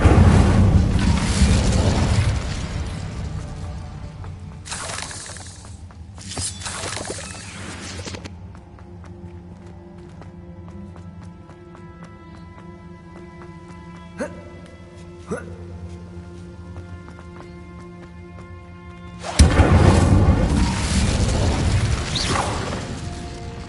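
Incendio fire spell cast in Hogwarts Legacy, a loud whooshing burst of flame at the start and again near the end, with quieter mechanical clatter and a few faint knocks in between.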